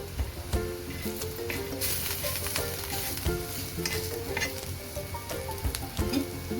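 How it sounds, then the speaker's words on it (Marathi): Whole spices roasting in a little hot oil crackle and sizzle up close while a utensil scrapes and taps the pan, irregular bursts over a steady hiss, with no one speaking. "आता थोडंसं तेल टाकून त्याच्यामध्ये खडे मसाले टाकायचे"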